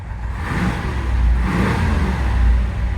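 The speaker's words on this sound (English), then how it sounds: "Listen to the clickety-clack of the solid lifter motor." A 1970 Chevelle SS with an LS6 solid-lifter V8 idling close by in a garage, a steady low rumble that swells slightly, with a faint mechanical ticking under the engine note and no talk.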